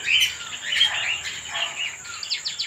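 A young black pied cockatiel chirps steadily at close range in a breeding colony, with a continuous high whistle-like tone and rapid tweets, no voices present.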